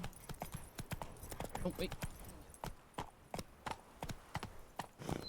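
Horse hooves clip-clop at a steady walking rhythm in The Witcher 3 video game, close and fairly loud, with a person talking over the hoofbeats.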